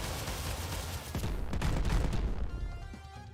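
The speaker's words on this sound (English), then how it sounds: "Missiles." Missile fire in the monster-defense strategy game Kaiju Wars, a dense crackling barrage of launches and blasts that swells and then tails off, loud and with no voices over it.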